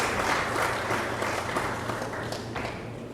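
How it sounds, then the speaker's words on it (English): Audience applause at a college tribute evening, dense steady clapping close and loud throughout, slowly easing toward the end. "I'd like us to applaud Mr. Manchun in solidarity for his own loss."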